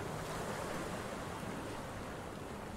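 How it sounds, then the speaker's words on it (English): Steady ocean surf washing over a white sand beach with crystal clear water, a continuous broadband rush of waves lapping at the shore with some wind, alone and without voices. "and waves lapping at the shores"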